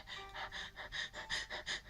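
A voice imitates rapid, heavy panting: quick rhythmic breaths in and out, about eight or nine puffs in two seconds, fairly quiet.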